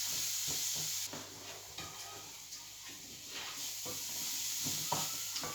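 Rice grains fry and get stirred in a pan for risotto, a soft continuous sizzle with intermittent scraping stirs, fairly faint and close.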